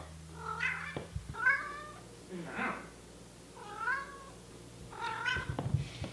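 A pet cat meows indoors, about five separate drawn-out meows spread over several seconds, fairly close but soft, with a person's quiet voice and small handling noises in between.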